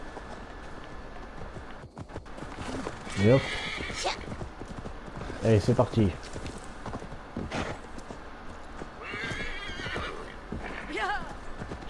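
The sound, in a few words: horse galloping and neighing, Assassin's Creed Valhalla video game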